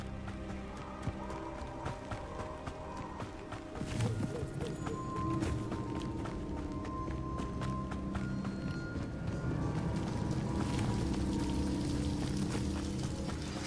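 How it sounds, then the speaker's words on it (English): A waterfall in Hogwarts Legacy pours as a steady rushing wash that continues throughout, with heavier thumps and hoof-like steps layered over it. "The waterfall."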